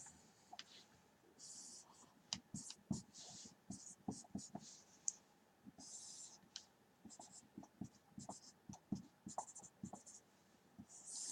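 Marker drawing economics graphs on a board, heard as quiet squeaky strokes and short taps in an irregular rhythm, close and faint, with no talk over it.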